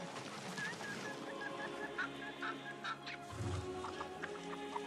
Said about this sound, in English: I hear nothing but ducks